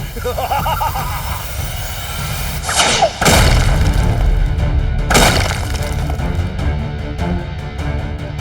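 A loud crashing boom with shattering debris, followed by a second burst a couple of seconds later, rumbling over cartoonish background sounds.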